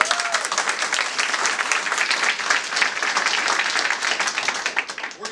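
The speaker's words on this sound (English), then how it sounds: "So you all deserve a round of applause" Staff at a quarterly recognition ceremony applaud with lively, continuous clapping from a room full of people, close and loud throughout.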